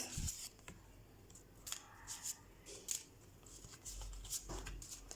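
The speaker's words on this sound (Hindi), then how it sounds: "अब हम आपके लिए शफलिंग कर लेते हैं सेजिटेरियस" Tarot cards are shuffled with soft, crisp flicks and riffles, faint and close, coming in short irregular bursts in a quiet room.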